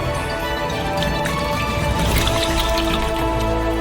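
Cooking oil pours into a wok over a steady outdoor background, giving a continuous soft liquid trickle with faint drips, close and even, with no talk.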